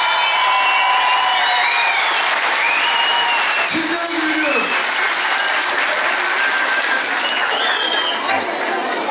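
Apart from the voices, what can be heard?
audience applause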